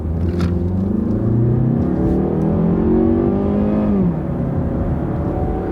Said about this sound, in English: So we'll give it a little gas.